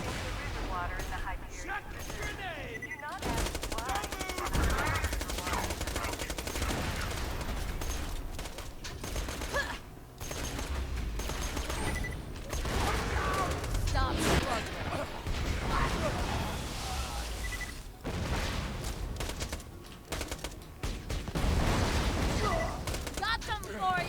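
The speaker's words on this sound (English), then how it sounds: "Let this grenade go off first." Borderlands game combat with a dense stretch of gunfire and explosions, including a grenade going off. Bursts and booms keep coming at a busy, uneven pace while a player talks intermittently over the action.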